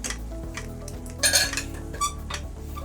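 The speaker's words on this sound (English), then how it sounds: "Mix that together." A spoon scrapes and clinks around a pan of thick blue cheese sauce in a steady, close stirring rhythm, with a couple of louder metallic knocks partway through.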